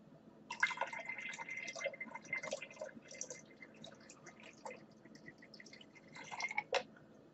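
Two chemical solutions for a silver nitrite synthesis poured together into a cup, giving soft splashing, trickling and dripping sounds with small bursts, fairly faint and close.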